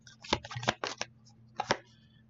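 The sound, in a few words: shuffling a deck of trading cards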